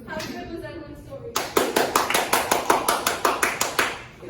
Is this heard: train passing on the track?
no